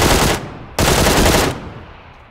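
Gunfire from a gun in a video game: two loud, dense bursts of rapid shots separated by a short gap, the second burst longer and fading into a short tail.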